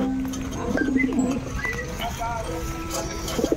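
Pigeons coo softly in low, throaty warbles nearby while a person talks over them.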